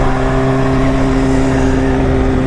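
Steady engine hum from a motorcycle ride through traffic near a construction zone, with cars passing close by; a continuous, loud droning tone with no talking.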